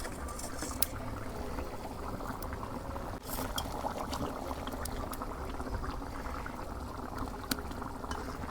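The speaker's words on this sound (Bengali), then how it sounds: "দেখি টমেটোর বলক উঠলো নাহি, বলক উঠছে" Tomato sauce for a Bangladeshi village-style sour fish curry boiling in a pot, a steady close bubbling and simmering hiss that continues throughout with a few faint clinks and no talking.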